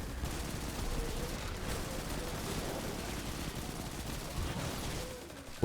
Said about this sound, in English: I'm going to revisit the wyvern to get another Witherhoard shot on it